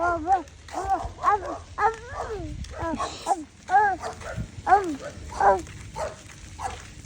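A dog barks repeatedly in quick yappy bursts, close by, with short whimpering yips between them and a steady rumble underneath.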